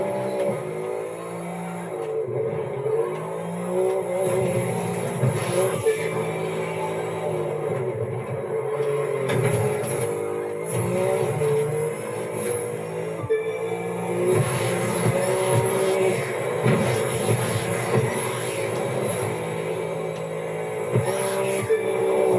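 Touring race car engine in The Crew 2 on a Grand Prix circuit, a continuous high-revving drone with shifting pitch, gear changes and brief surges, loud and steady throughout.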